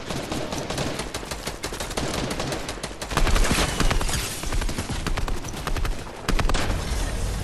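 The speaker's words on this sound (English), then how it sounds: "Someone just shot." Rapid bursts of gunfire in a Fortnite match crackle densely and loudly throughout, with heavier volleys near the middle and end and no talk over them.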